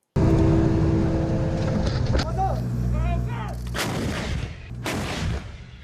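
Coastal defence artillery guns fire heavy, booming rounds near a shoreline, several loud blasts ringing out one after another with a rolling rumble between them and no speech.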